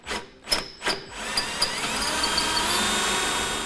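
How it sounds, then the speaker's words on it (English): A power drill with a 13/32 bit boring into a vehicle base plate mount: a few short taps and bursts, then a sustained whining drill sound close by. "We're going to take a 13/32 drill bit."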